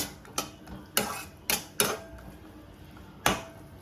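Chopped cashews being stirred in a pan on the stove, a handful of sharp metallic scrapes and clinks of a utensil against the pan, spaced irregularly and heard close with no voices.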